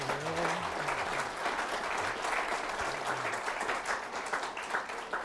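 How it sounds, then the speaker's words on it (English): Sustained audience applause at a political speaker forum featuring Fred Barnes and Mort Kondracke, dense and steady clapping from a crowd, with a few faint voices briefly audible underneath. "Let's give them a round of applause."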